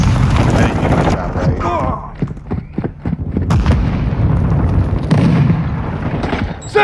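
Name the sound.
Semtex grenade explosion in video game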